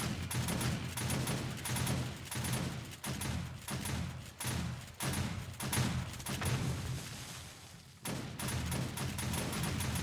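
Shotgun turrets blast away at a zombie horde in 7 Days to Die, a steady rhythm of repeated booming shots at regular intervals, fairly quiet and continuous, with short gaps between volleys.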